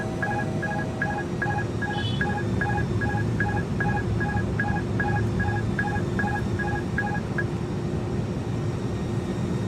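A repeating two-tone electronic chime sounds the autopilot disconnect warning in an Airbus A300-600R cockpit simulator, a steady run of evenly spaced beeps over a constant engine and cockpit hum.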